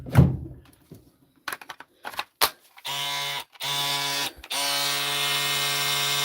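A repaired Dewalt power tool on a big battery, starting with a few clunks and clicks, then running in steady, fairly quiet whirring bursts that stop briefly and resume, ending in a continuous run.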